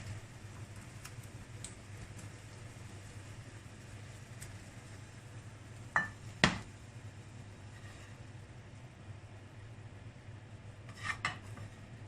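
Food being scooped from a pot with a utensil, giving a few brief metallic clinks and scrapes around the middle and near the end over a steady low background hum.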